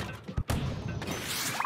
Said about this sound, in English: Fire the ink cannon!